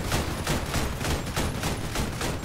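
A long-range autocannon fires in rapid, steady bursts of evenly spaced booming shots during Crossout vehicle combat, loud and continuous with no talk.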